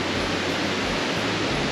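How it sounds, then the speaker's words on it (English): A hard-flowing waterfall at Rock Island State Park, heard from a canoe as a loud, steady broadband roar that holds unchanged throughout with no talking. "It's really flowing. We are just seeing the waterfall."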